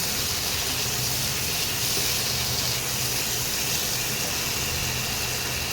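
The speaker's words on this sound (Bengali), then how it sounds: "এবারে মশলাটাকে ভালো করে কষাতে হবে" Chili powder masala for potoler dom fries in oil, a steady broad sizzling hiss that stays loud and even throughout, with no one speaking.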